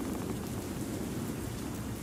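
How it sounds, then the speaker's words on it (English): Steady, dense rain hisses and patters throughout in S.T.A.L.K.E.R. Shadow of Chernobyl, a constant loud wash with no breaks and no voices. "It's raining."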